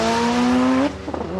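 Toyota Corolla drag racing down the strip at Palmyra Raceway, a loud high-revving engine note rising then cutting sharply as it shifts, followed by rougher engine sound, all within a second or two.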